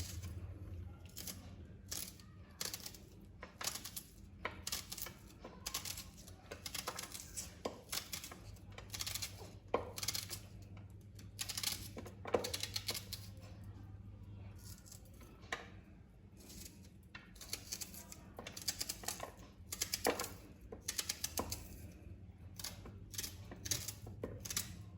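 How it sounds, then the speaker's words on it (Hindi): A knife chops onion on a board in rapid, continuous rhythmic taps, close and moderately loud, with a low background hum beneath. "अब प्याज काट लेते हैं"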